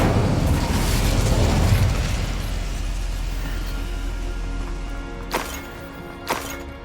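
An Incendio fire spell in Hogwarts Legacy erupts as a loud, sustained fiery rumble that slowly fades, followed by two short sharp pops.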